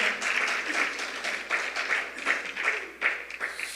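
Church congregation applauding during a Sunday morning service, a fairly faint, rhythmic patter of clapping that swells in regular beats as if clapped together in time, heard alone without talk.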